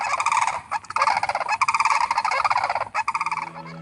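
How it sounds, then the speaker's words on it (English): A sandhill crane gives loud, rolling, rattling calls in rapid pulsed bursts, repeated several times close by with brief gaps between phrases. "I have chosen the sandhill crane."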